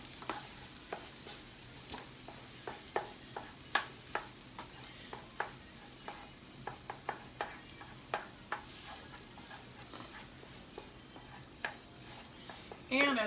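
Fried rice with scrambled eggs being stirred and fried in a pan: a soft continuous sizzle under frequent sharp spatula scrapes and taps against the pan, fairly quiet and close.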